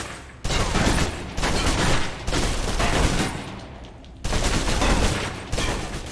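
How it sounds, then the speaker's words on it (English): A submachine gun in the game Alpha Protocol empties its clip in several loud, close bursts of rapid automatic fire, each burst separated by a short pause and ending abruptly. "Now, let's move on to the submachine gun. Now let's empty the clip."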